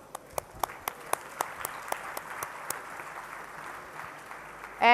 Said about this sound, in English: So to them, a very big round of applause